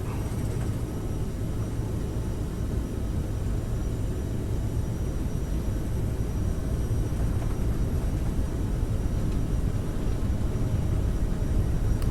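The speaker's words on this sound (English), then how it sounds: "Alright, takeoff thrust set." Jet airliner engines at takeoff thrust on departure from KCVG, a steady, loud, dense roar and rumble filling the cabin without a break, with no distinct events standing out.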